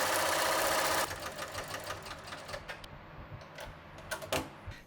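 An embroidery machine stitches a tack-down line on a face fabric piece, giving a steady, quick mechanical ticking and whirring that runs continuously at moderate volume, busiest in the first second.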